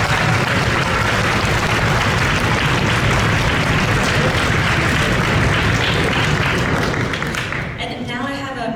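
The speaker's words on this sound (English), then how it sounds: "So let's give them a round of applause" An audience at a school music event applauds its helpers, with sustained loud, dense clapping that carries on steadily before tapering off at the end.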